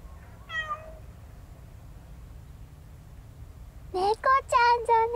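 Cats meow at a feeding spot on a cat island: one short, rising meow comes early, then after a quiet stretch several loud, overlapping meows from a few cats close by.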